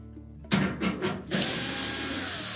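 A power tool, likely a drill or driver, backs a quarter-inch hex head screw out of the top of a Whirlpool washer, with a few close ratcheting bursts that settle into a continuous whirring hum.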